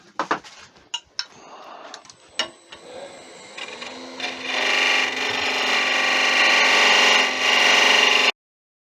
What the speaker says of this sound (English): I'm going to start touching this with a skew now so that it's straight.